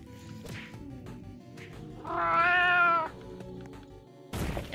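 A cat in the video game Ability Wars lets out one loud, drawn-out meow in the middle, set among scattered game thuds and clicks, with a sharp impact at the end.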